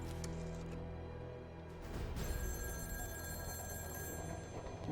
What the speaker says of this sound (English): Girl, you better answer that phone.